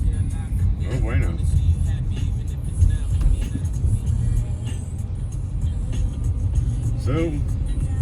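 A car drives through a snowstorm on the road from Reno toward the lake, giving a steady low rumble of engine and road noise throughout, with a few brief faint voices over it.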